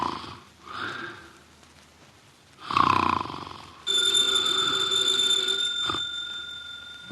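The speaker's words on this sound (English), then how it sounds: "he's making sounds through his nose" A heavyset man dozing with his eyes closed in a radio drama makes nasal snoring and snorting sounds, two soft breaths followed by a louder snort, then a steady tone-like hum carries on to the end.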